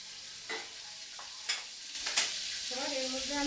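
Fried mushrooms for chilli mushroom are lifted from a hot pan, with scattered scrapes and clinks of a utensil over a steady oil sizzle and a brief tonal whine near the end, close and fairly quiet.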